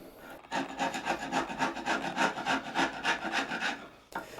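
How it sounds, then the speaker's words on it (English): A blade scrapes thick paint off the wood of a whisky barrel in quick, rhythmic back-and-forth rasping strokes, close and clear, about a dozen in a row with no talk. "used a blade to scrape away some of the thick paint"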